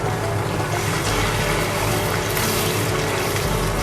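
Whisked egg poured into hot oil in a pan for chicken chowmein, a loud continuous frying hiss with no talk.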